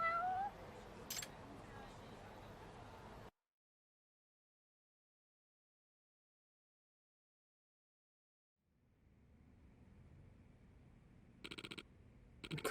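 Cat meowing in the video game Judgment: a short meow near the start over quiet background, then silence, then faint ambience returns with a couple of brief sharp sounds at the end.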